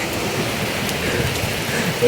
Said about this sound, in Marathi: आम्ही आता पावसात अडकलेलो आहोत